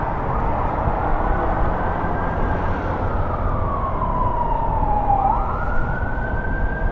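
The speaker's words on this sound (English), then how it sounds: "Sounds like we have an ambulance up here" A loud wailing ambulance siren sweeps up and down steadily, close by, over the constant rumble of passing road traffic in Washington, D.C.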